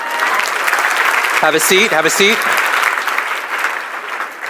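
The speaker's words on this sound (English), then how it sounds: "clap if you went further a second time" Audience clapping fills a talk venue, a steady wash of applause throughout with a voice speaking briefly over it near the middle.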